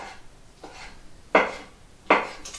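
Kitchen knife cutting through meat on a board while a salad is prepared, giving a few sharp, close chops spaced about a second apart, the last two strongest.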